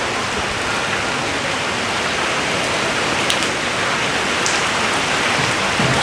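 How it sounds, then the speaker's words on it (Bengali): Heavy rain pours down in a dense, unbroken wash of hiss and patter that stays constant throughout, with a few sharper drip sounds standing out and no talking. "আর বৃষ্টি যে দেখতেই পাচ্ছেন কত বৃষ্টি, অনেক বৃষ্টি।"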